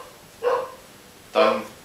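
Two short dog barks, a moment apart, at moderate distance and fairly faint, with no talk.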